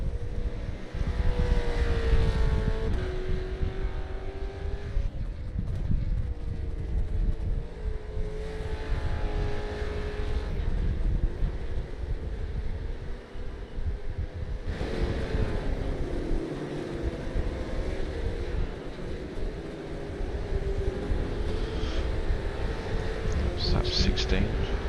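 A V8 Supercar engine drones loudly and continuously from inside the car during a race, with gear changes shifting the pitch and a steady roar throughout, under a commentator's voice.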